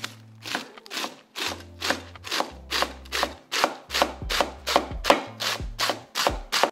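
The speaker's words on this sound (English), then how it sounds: "I'm going to break out the cleaver." A cleaver chops through napa cabbage on a board in a steady run of about fifteen crisp, close knocks, each one a sharp crunchy impact followed by a short scrape.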